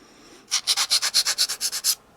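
A nail file scrubbing over acrylic nails in quick, even back-and-forth strokes, about a dozen rasping passes in a steady rhythm, close and clear with silence before and after.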